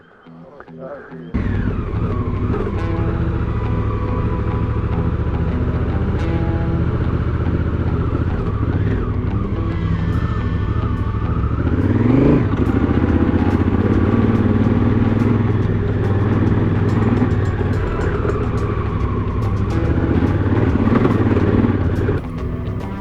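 A Honda Africa Twin motorcycle engine runs steadily and loudly throughout, close by on a dirt track ride, with a brief rise in revs midway and a voice talking over it.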